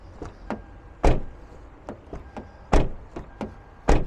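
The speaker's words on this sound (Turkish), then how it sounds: "Hani yılına göre gayet güzel kapı sesi var." Repeated door thuds from a 2011 Hyundai Elantra GLS sedan, a series of sharp knocks and solid closing bangs at irregular intervals, three heavier slams standing out among lighter clicks, close by with no talking.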